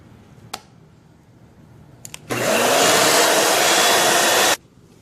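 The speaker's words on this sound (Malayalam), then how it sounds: "നമുക്കിതിലേക്ക് വിപ്പിംഗ് ക്രീം ചേർത്ത് ബീറ്റ് ചെയ്തെടുക്കാം." An electric hand mixer beats whipping cream into strawberry cheesecake batter, a loud steady whirring burst of about two seconds after a few faint clicks, then cutting off abruptly.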